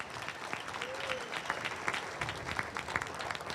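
Audience clapping at a high school ribbon cutting ceremony, scattered applause that is fairly faint and distant, with crowd murmur and voices mixed in.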